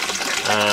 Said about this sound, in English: So that's pumping the water out from the sump tank.